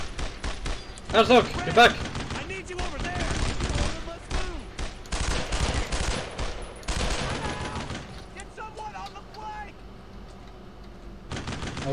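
Gunfire in the World War II video game Brothers in Arms: Road to Hill 30, with dense overlapping bursts from rifles and machine guns near and far over a running battle din, broken by someone shouting orders.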